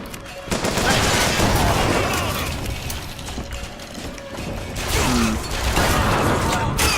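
Sustained gunfire and mechanical clatter from a Bioshock Infinite firefight, loud and dense throughout, with rapid bursts layered over gear-like rattling and a brief voice.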